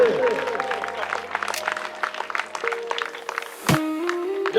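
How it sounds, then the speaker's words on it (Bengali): Audience applause at a school annual function and prize-giving day at Hashimia International Academy, dense clapping under an amplified voice speaking over the hall. "সবাই একবার করতালি দেন।"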